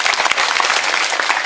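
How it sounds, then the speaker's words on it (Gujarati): An audience at a village political rally claps loudly and steadily, a dense, close burst of applause without pause. "આવા માણસ માટે એકવાર જોરદાર તાળી પાડો."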